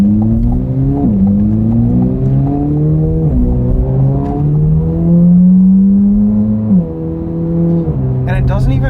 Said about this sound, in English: Even in tour mode, it still backfires a little bit.